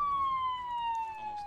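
An ambulance siren in the Emergency 4 firefighting and rescue game holds a steady, loud wailing tone that drifts slowly downward, alone, with no voices.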